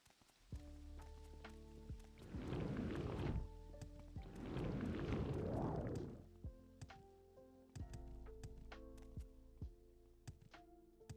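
Heavy rain pours in an Elder Scrolls game world, two loud broadband bursts of downpour swelling and fading amid soft music and scattered game clicks and thuds.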